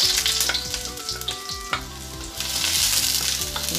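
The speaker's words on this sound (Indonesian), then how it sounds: "lalu tumis bawang putih." Garlic sautéing in a little leftover oil in an unwashed wok sizzles loudly and continuously, with crackling bursts and clanks of a utensil stirring against the pan, no talking.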